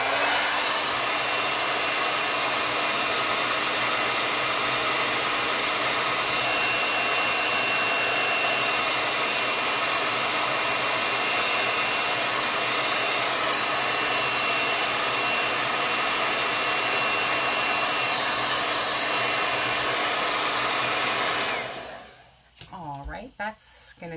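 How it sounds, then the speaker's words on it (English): A blow dryer runs steadily while drying chalk paste on a kids' T-shirt, a loud continuous whir held close for over twenty seconds before cutting off into handling noise. "I'm going to use a blow dryer on that and dry that bad boy up"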